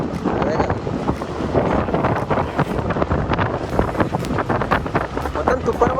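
Strong wind buffets the microphone aboard a boat heading to Put-in-Bay Island, Ohio, in a loud, continuous roar with gusty surges and water noise underneath, while voices are faintly mixed in.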